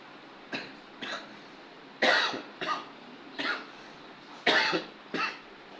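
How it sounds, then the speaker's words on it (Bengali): A man suffering from a cold coughs about seven times in uneven bursts, some single and some doubled, close and clear with no speech. "ঠান্ডা লাগছে আমার কাশি সর্দি কাশি"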